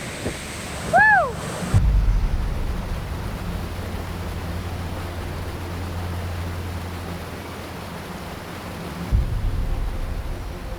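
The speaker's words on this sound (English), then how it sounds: "That is such a big waterfall." Large waterfall in Southern Mexico where a river drops more than 2,000 feet: a steady roar of falling water with buffeting wind on the microphone, a brief tonal whoop near the start.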